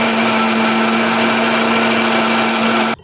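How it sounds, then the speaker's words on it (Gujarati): A kitchen blender whirs steadily at full speed as it crushes muskmelon with a little sugar and half a glass of water into juice, the loud motor drone running for about three seconds and then cutting off abruptly. "અને આપણે હવે ક્રશ કરીશું।"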